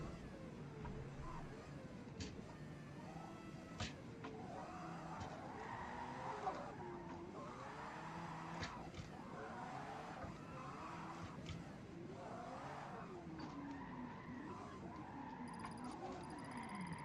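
A race car in the Forza Motorsport game, fitted with an unknown swapped engine, revs and drones in rising and falling waves with tire squeal and skidding, steady and distant-sounding at low volume.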